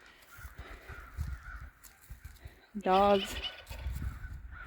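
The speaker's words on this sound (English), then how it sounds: "We have lots of crows. Right now the crows are fighting." Crows caw in a short loud burst of harsh calls near the middle, squabbling with a hawk on a farm being readied for spring, over low rustling background.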